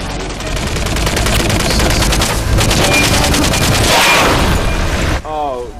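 Rapid bursts of gunfire from the video game Metal Gear Solid: Peace Walker rattle loudly and almost without pause, heavy automatic fire that cuts off abruptly near the end, followed by a short electronic tone.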